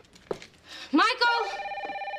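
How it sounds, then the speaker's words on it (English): A telephone rings in a sitcom home, a loud electronic ring with a warbling trill that starts abruptly and holds steady, heard alone without talk. "The phone's ringing."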